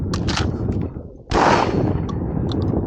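A shotgun blast during a bird hunt, with a dog working nearby in swampy gator country: one loud, sharp report in the middle, followed by a steady outdoor rumble.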